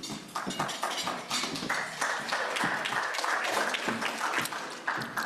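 A single person claps steadily at a Rotary club meeting, a dense run of quick, fairly loud hand claps lasting several seconds with no other voices.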